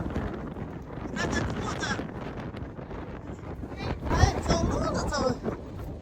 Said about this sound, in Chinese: 这风太大了，只有8级大风哦，吹的人都走不动了